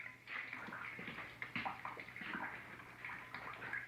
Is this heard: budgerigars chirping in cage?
no